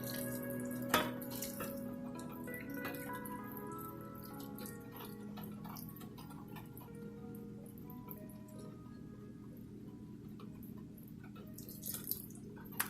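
A topping is poured over a Tennessee peach pudding in a baking dish, producing a soft, steady liquid trickle with faint drips, quiet and close with no talk.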